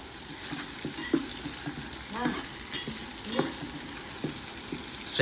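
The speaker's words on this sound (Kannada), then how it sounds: "ಈರುಳ್ಳಿ ಮೆಣಸಿನ್ಕಾಯಿ ಮತ್ತು ಯಾವುದೋ ಎಲೆ ಎಲ್ಲ ಬೇಯಿಸ್ತಾ ಇದ್ದೀನಿ" Onions, green chillies and leaves frying in a pan for chicken biryani, a steady sizzle broken by repeated scraping stirs of a spatula, close and moderately loud.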